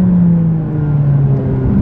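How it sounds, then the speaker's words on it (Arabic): McLaren 570S turbocharged engine and exhaust droning steadily at a near, loud, constant pitch, a smooth sustained mechanical hum without voices. "اسمعوا صوت العوادم وصوت المحرك"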